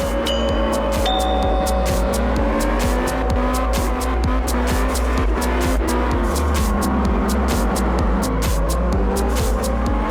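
A car engine revs hard in Absolute Drift, the tires squealing through a continuous drift. The engine stays loud and close, buzzing with rapid rhythmic pulses for the whole stretch.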